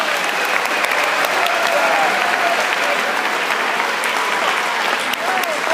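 A conference audience at the MLTI 2014 UMaine closing ceremony breaks into dense, sustained applause, loud and steady throughout with a few cheers mixed in.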